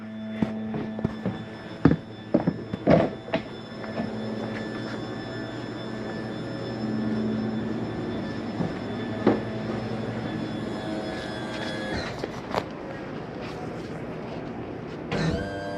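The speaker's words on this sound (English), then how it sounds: "Auto is going to start running down our auto leveling system." Auto leveling jacks lowering on a 2019 Coachmen Mirada 32SS motorhome, a steady mechanical motor hum and whine running throughout with intermittent clunks and knocks, fairly close and loud, ending in a few sharper thumps.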